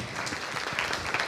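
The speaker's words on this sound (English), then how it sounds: "Can we give her another round of applause?" An audience at a tech women's summit applauds, a dense steady wash of many hands clapping at moderate distance.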